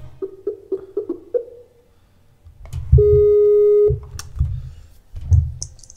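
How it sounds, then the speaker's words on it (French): A few quick repeated tones sound early on, followed by clicks and a single sustained electronic tone as an outgoing call waits for an answer, with no talking. "Alors, pas de réponse, on passe sur Amadji. On va envoyer."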